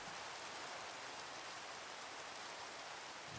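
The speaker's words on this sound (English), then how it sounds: "And it's raining." Steady rain falling in a farming video game, a dense, even hiss of broadband patter that holds at constant loudness throughout, with no voices.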